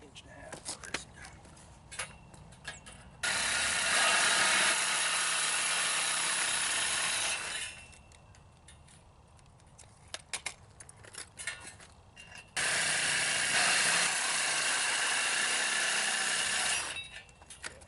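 Power tool cutting a piece of stock for a seat mount on a 1978 Ford F-150 build, running in two loud sustained bursts of about four seconds each, with quieter shop noise between.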